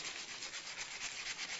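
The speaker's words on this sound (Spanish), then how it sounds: "con un trozo de papel de lija la vamos a dejar impecable" Sandpaper rubs back and forth against a small metal electrode bar taken from used batteries, a close, steady gritty scraping with quick repeated strokes and no voices.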